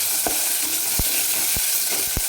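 Coarsely pounded green chili and garlic paste sautés in a pan, likely for a safflower-greens garagatta, with a steady hiss and a few sharp spatula scrapes against the metal.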